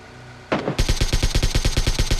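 An automatic gun fires in a mobile shooter video game: a brief whoosh, then a loud, rapid burst of about a dozen and a half evenly spaced shots that keeps going to the end, with no talk over it.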